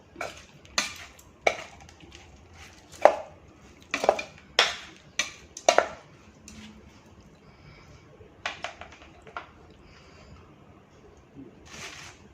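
Sharp knife strikes on a cutting board, irregular and close, in short bursts with pauses between them, some clustered in quick runs.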